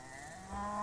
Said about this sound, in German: Die Kühe freuen sich auch schon, dass wir da sind